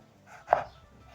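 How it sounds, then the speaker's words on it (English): A kitchen knife slices through a halved tomato on a board, one short, soft cut, close and fairly quiet, with no voice over it. "Turn the tomato around and slice again."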